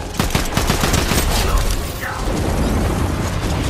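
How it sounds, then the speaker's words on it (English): Dense gunfire in Fortnite Zero Build, rapid overlapping shots and booms from multiple weapons, loud and close throughout the short burst. "Oh, they're all shooting me."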